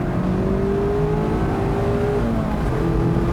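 A Mazda MX-5 Miata engine, which pulls to 7,500 RPM, hums with a loud steady whir while its pitch slowly climbs and dips under acceleration, heard close from inside the car.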